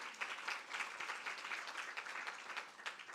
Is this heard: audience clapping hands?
yes